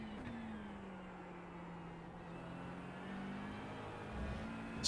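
A McLaren 720S GT3 EVO race car in iRacing at Interlagos holds a steady, low engine drone, the pitch sagging slightly and then climbing gently, ending in a brief sharp burst.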